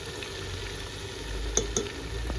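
Turmeric, cumin seeds and salt sautéing in a pan, a soft steady sizzle with a couple of quick stirring clicks near the end, close up and without talk.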